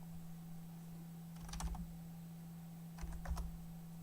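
Two short bursts of typing on a computer keyboard while entering a command in the command prompt, close and clear over a steady electrical hum, with a quiet pause between them.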